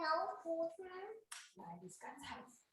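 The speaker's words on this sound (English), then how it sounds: "oh, the kids are loud, man" Children talk and shout loudly nearby in short, lively bursts, close and prominent rather than distant.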